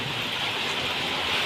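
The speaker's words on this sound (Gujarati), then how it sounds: "यहाँ पे गाइस बहुत बारिश हो रहा है हमारे गांव में।" Heavy monsoon rain pours down in a village, a dense, steady hiss of downpour close by with no pauses and no talk.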